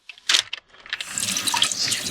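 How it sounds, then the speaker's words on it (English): Lukewarm tap water runs over frozen food to rinse off frost, opening with a few splashy bursts before settling into a steady, close stream into a sink. "run them under some lukewarm water to get the remaining frost and stuff off of them"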